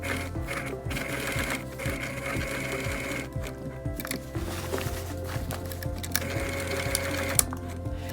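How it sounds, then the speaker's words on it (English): A sewing machine stitches a fabric patch over a tear, its needle running in a steady, fast mechanical rhythm with brief pauses and restarts, close and continuous throughout. "I'm going to sew along the edges of the tear, about 1/4 inch away."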